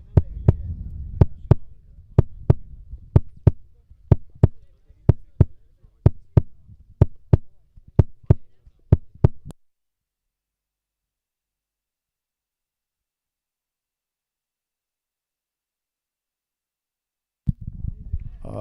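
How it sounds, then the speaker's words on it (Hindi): A heartbeat sound effect laid over the final of a cricket tournament: loud, close, rapid and steady thumps for about nine seconds, then silence, with a single thump returning near the end. "दोनों प्लेयरों की दिल की धड़कनों की आवाज आप साफ सुन सकते हैं।"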